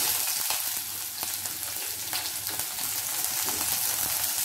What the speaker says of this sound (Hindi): पियाजखिनि किछु समय भाजि लै